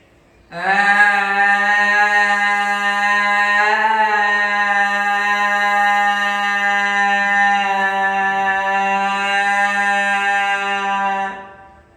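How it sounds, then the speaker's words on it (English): A single long, steady voiced 'ahh' exhaled forcefully with the tongue extended, as in yogic lion's breath, held for about eleven seconds, close and loud, with nothing else around it. "Open the mouth and extend the tongue out and make a ah sound like this."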